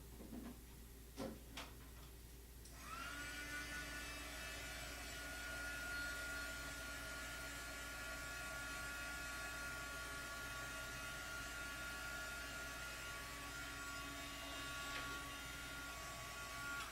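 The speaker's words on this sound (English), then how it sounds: "run down to my drying tool because you need to have this totally dry" A drying tool, likely a hair-dryer-type blower, blasts air over a watercolor pencil painting, a steady loud whirring hiss that starts abruptly after a few seconds of quieter handling noises and runs unbroken to the end.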